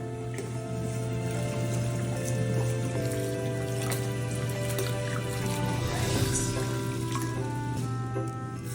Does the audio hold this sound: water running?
yes